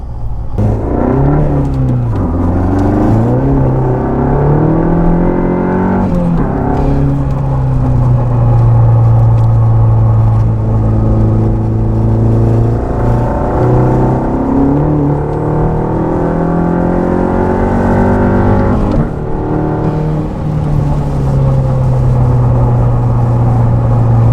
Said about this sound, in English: we're in Jake's Mk7 GTI with his own custom turbo back exhaust. Little in-car sound